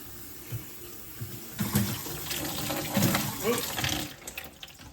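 Water runs from a bathroom faucet with both hot and cold turned on, a steady close splashing stream with a few clunks and handling knocks.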